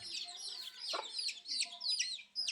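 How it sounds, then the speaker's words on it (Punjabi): A hen, bedraggled and muddy after rain, in a rural Pakistani Punjabi farmyard gives a quick run of chirpy, high clucks in short bursts, fairly close and with no talking. "ਔਰ ਬਾਰਿਸ਼ ਨੇ ਮੁਹੰਮਦ ਉਸਮਾਨ ਦੀ ਮੁਰਗੀ ਦੀ ਹਾਲਤ ਵੇਖੋ ਕਿਵੇਂ ਹੋਈ ਪਈ"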